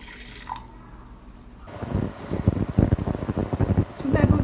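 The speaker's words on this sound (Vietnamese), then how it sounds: "Chúng ta thêm 1 cốc nước." Water is poured from a cup onto ground flaxseed, a close, trickling splash that starts about two seconds in and runs to the end, briefly easing near the four-second mark, with a voice talking quietly.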